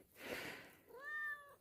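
A cat gives a single soft meow in a quiet barn while stalls are cleaned, preceded by faint rustling.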